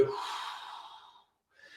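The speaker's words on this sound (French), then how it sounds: "on respire par le ventre jusque dans les poumons, puis on expire complètement" A long, full exhalation of deep qi gong breathing, a breathy airy rush lasting about a second, close and clear, then fading to silence before a faint new breath begins.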